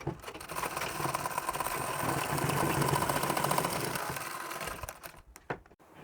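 A sewing machine runs steadily while stitching the waist section of a blouse, a fast continuous mechanical whir with rapid needle clatter for several seconds, then stopping with a few scattered clicks and knocks.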